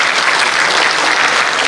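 Steady, loud applause from a crowd at a company launch event in Malaysia, a brief continuous burst of clapping.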